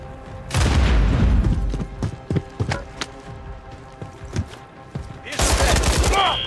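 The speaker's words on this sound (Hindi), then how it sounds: "ग्रेनेड फेंक दिया यार ने।" A grenade blast and gunfire in the video game Call of Duty MWIII: a loud explosive boom opens, followed by scattered shots and another heavy burst at the end.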